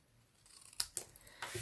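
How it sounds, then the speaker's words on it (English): Scissors snip through a paper banner from a November 2019 paper-crafting kit, a few quiet, crisp cuts in close succession with no talking. "we're going to cut it in half"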